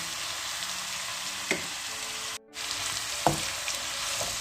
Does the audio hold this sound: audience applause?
no